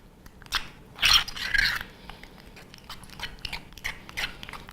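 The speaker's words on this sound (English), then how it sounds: "but we're just going to keep stirring." A spoon stirs melting chocolate chips in a bowl, giving close, irregular scrapes and light clicks against the bowl with no talking.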